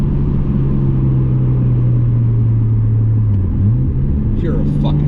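Nissan R32 Skyline sedan cruising with a steady low engine drone from inside the cabin, the pitch dipping briefly near the end, while people talk over it.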